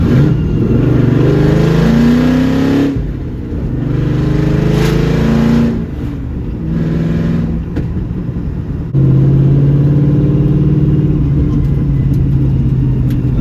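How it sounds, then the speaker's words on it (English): A 2004 Pontiac GTO drives and brakes hard: a loud, close engine rumble that revs up and drops in several surges, with brief lulls between pulls and a final strong burst of acceleration. "Let's slam the brakes and see what happens."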